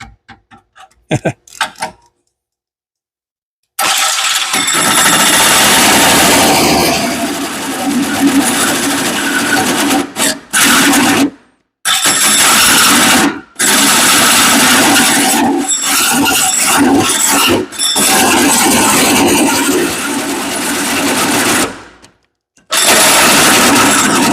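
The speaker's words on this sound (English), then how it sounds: "Jake, I'm drilling another hole in your car." A loud power drill whirs in long sustained bursts while drilling a hole in a Mustang car body, stopping and restarting several times, with brief quiet gaps and a few clicks at the start.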